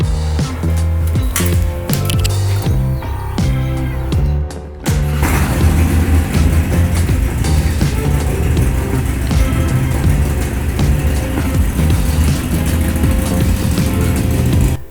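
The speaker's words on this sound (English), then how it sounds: "now I'm gonna go ahead and run the bike, bring it up to idling RPMs" A Harley-Davidson Iron 883 Sportster runs in a garage during a 5,000-mile service: a brief cranking start, a short gap, then a loud, steady idle with a deep, lumpy rumble and mechanical clatter.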